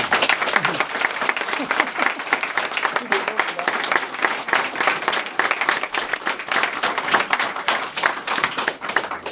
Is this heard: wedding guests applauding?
yes